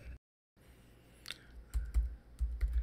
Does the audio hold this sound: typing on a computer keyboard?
yes